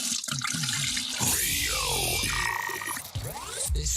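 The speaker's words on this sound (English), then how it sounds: "hearing the sound of the toilet flush" A toilet flushes with a rushing, gurgling surge of water that swirls and drains over a few seconds, close and steady, with faint voice-like sounds mixed in.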